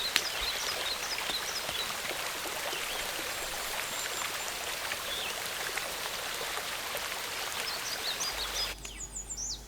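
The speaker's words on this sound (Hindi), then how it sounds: "जोरों की बारिश आने वाली है।" Heavy rain pours steadily as a dense hiss with scattered bird calls above it, continuous and fairly loud, then cuts off abruptly near the end.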